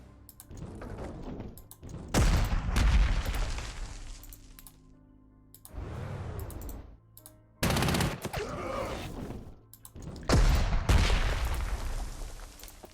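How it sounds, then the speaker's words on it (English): Artillery fires in the Panzer Corps 2 strategy game: several loud, booming blasts in separate bursts, each fading into a quieter gap. "Using my artillery to soften up the big infantry stacks."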